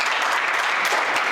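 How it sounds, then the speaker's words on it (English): A business conference audience at Kean University gives a brief round of applause, a dense continuous burst of many hands clapping, loud and close, with no speech over it. "So give Stan and Kean a big round of applause"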